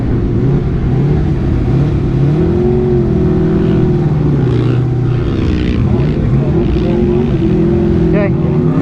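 A 1700 HP sandrail on the Glamis sand dunes, a loud, steady engine roar that rises and falls in pitch as it drives, continuous throughout and up close.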